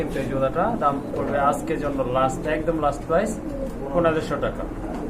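A caged pair of Bombay pigeons coos in soft, repeated throaty rolls close by, under people talking at a market stall.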